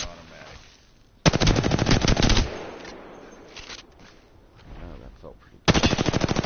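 Automatic weapon fire in Apex Legends rattles out in two loud, rapid bursts, one long and one starting at the end, with someone talking quietly in the lull between them.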